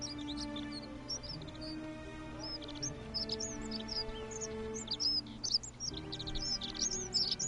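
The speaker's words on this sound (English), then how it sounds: "Those birds are loud." Birds in The Forgotten City video game, a flurry of bright, repeated chirps and tweets over a low ambient hum, fairly loud and busy throughout, with no voices.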